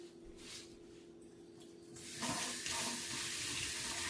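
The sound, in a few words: water running from a tap while rinsing hands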